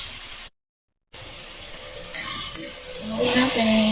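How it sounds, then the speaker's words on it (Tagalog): Ingredients for chicken tinola sauté in a home kitchen pan, a loud close hiss and sizzle broken by a brief dropout, with faint clinks and stirring near the end. "Igigisa na lang natin ito, mga sis."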